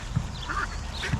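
Ducks quack close by on a short, moderately loud stretch, with a few nasal calls overlapping above a low background rumble.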